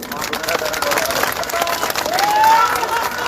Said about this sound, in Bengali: আপনাদের সবার জন্য সবাই একটি করতালি দেই